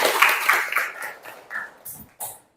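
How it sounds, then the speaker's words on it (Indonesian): Students in a classroom give a short burst of clapping, loud and close, that thins into a few scattered claps and stops; no talking. "Oke, tepuk tangan semuanya."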